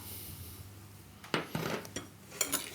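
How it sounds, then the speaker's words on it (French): A few close, bright scrapes and clinks of a utensil against a bowl as sugar is lightly stirred into diced rhubarb, brief irregular strokes over a quiet background. "On mélange légèrement le sucre et on va laisser mariner comme ça pendant 2 heures"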